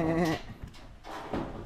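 A single short goat bleat rings out up close at a farm, followed by quieter rustling and a faint second cry.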